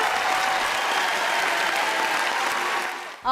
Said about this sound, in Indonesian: Coba yang di rumah tepuk tangan deh buat Absolute ya.